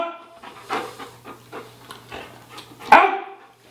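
A Labrador barks during K9 obedience training in Brooklyn, New York, with a run of nearby vocalizing and then one loud, sharp bark near the end.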